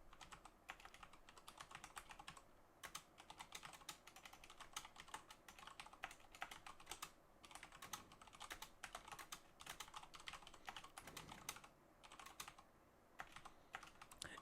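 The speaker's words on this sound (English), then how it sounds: "I'm listening to your like computer clicking, and it sounds like it's like being played in a vacuum" Steady, rapid clicking of a computer keyboard being typed on, with no voices and a faint, thin background.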